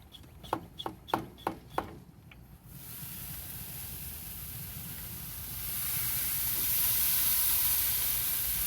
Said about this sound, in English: Give another spritz.